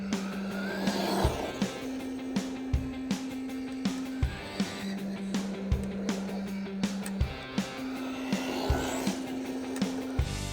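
A Traxxas Rustler RC car, black special edition, rips laps around a dusty dirt track, its electric motor whining in a steady tone that drops and rises through the corners, with repeated sharp clatters and bumps as it lands and pulls wheelies.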